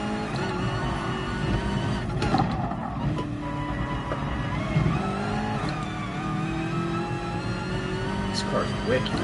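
Race car engine in the video game Gran Turismo Sport, played on a PS4 Pro with a Logitech G29 wheel, droning steadily throughout at moderate level beneath talking.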